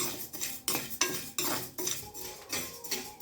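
Parboiled rice roasting in a pan for idli podi, stirred with a metal utensil that scrapes and clinks against the pan in rhythmic strokes, close and fairly loud, with no talking.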